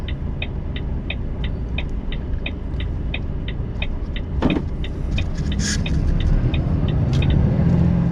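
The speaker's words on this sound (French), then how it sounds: "Et il y a beaucoup de voitures qui arrivent." Several cars arriving at a road junction with right-of-way priority, a steady traffic rumble close by with a faint repeating electronic beep and a brief louder pass midway.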